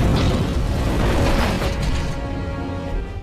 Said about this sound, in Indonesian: Tiba-tiba mobilnya meledak karena sebelumnya sudah dipasangi bom oleh Don